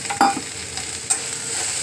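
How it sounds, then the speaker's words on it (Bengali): Green chillies fry and get stirred in a hot pan for curry paste, giving a steady close sizzle with a couple of sharp scraping stirs, no voices. "এইগুলো একটু ভাজা ভাজা হবে"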